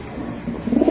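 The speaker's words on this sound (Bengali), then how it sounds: "এই যে নটটা ডাকতেছে" A racing pigeon coos at a market stall, low throaty rolling calls swelling in the second half of the moment, close and fairly loud with no speech over it.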